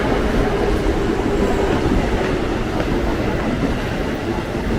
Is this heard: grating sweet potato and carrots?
no